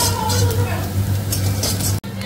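Flattened rice (chira) fries in a hot pan with a close, steady sizzle, broken by continual scraping and stirring strokes, with a brief cut near the end.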